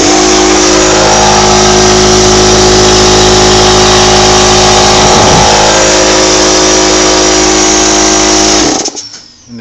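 A Husky air compressor motor runs loud and steady, its hum and hiss of released air continuing unbroken until it cuts off near the end.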